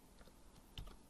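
Computer keyboard keys tapped during text entry in AutoCAD, a few faint, scattered clicks close by with no speech.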